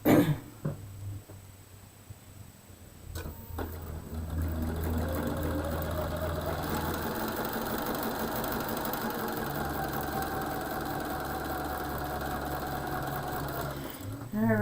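A sewing machine runs steadily for about ten seconds while stitching equilateral triangle quilt pieces together, a loud, even mechanical whir with a rhythmic needle pulse that starts after a short quiet pause and stops near the end.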